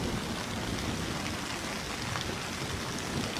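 Steady rain falls and patters evenly on surfaces, a continuous soft wash of drops with no voices.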